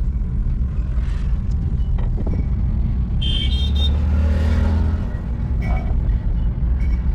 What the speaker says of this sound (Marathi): मित्रांनो, इलेक्ट्रॉनिक्स गाडी पहिल्यांदा चालवते.